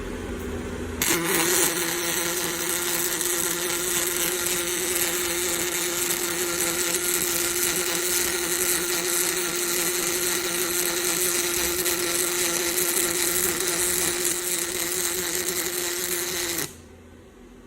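A Fanuc welding robot lays a weld bead at 20 inches per minute, a loud, steady, unbroken buzzing hiss that starts abruptly, runs for about fifteen seconds and then cuts off.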